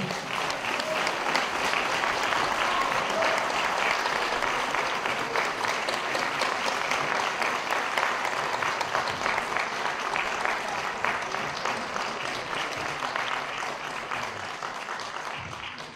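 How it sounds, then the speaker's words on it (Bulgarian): Sustained applause fills a pageant hall in the Stara Zagora State Opera house during the 2016 Queen of Avgustiada contest, steady and dense throughout, slowly tapering toward the end with no voices over it. "По-силни аплодисменти, уважаеми гости в залата на Държавна опера Стара Загора"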